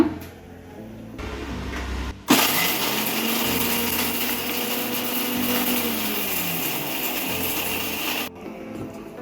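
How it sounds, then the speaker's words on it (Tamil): A mixer grinder runs loud and steady for about six seconds, pulverising a dry biryani masala of poppy seeds, mace, kalpasi (stone flower) and a bay leaf. It starts and cuts off abruptly, with quieter room noise on either side. "மசாலா நல்லா திரிச்சு எடுத்துட்டு வந்துட்டேன்"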